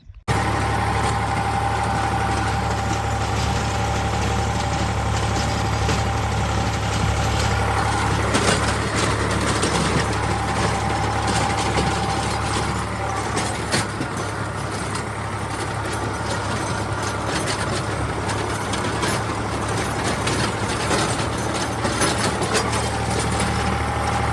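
A tractor engine with a rotavator runs close by in a cumin field, a loud, steady diesel rumble that drones on without a break and with no talking.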